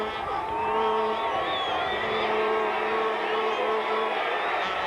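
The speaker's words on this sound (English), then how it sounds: "And the crowd cheering on the defense." A football stadium crowd at a 1993 CFL game, Winnipeg Blue Bombers at Saskatchewan Roughriders, cheers on the home defense with a steady roar and scattered whoops, under continuous play-by-play commentary.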